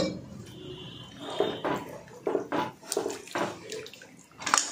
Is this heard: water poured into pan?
yes